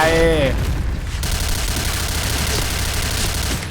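Heavy shotgun blasts in the online shooter Point Blank, loud booming shots amid constant game noise, with a voice talking briefly at the start.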